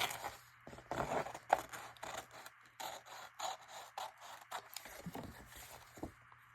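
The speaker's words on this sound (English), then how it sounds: "So I got to cut off the excess off the front, and then I can glue on the back and cut the excess off of that." Scissors trimming excess coffee-dyed wrapping paper from the edges, a close series of quiet crisp snips and paper rustles in an uneven rhythm.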